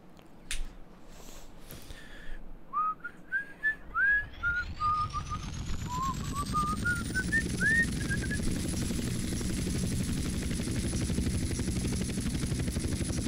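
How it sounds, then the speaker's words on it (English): A helicopter in GTA: San Andreas starts up after a whistling rising tone and a few sharp clicks, its rotor chop building into a steady, close, continuous thrum that fills the rest of the stretch with no talking. "Go to the ship with the helicopter!"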